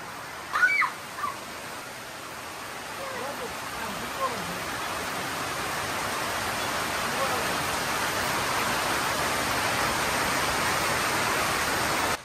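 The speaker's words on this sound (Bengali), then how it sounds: "ইস, শীতে বৃষ্টি নামছে।" Steady rain falling on a winter day, a dense, even wash of close rainfall that holds throughout, with a few brief knocks near the start and no talk.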